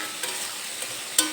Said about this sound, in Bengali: গ্যাসের ফ্লেম লো টু মিডিয়ামে রেখে মশলাটা আমি খুব ভালোভাবে কষিয়ে নেব।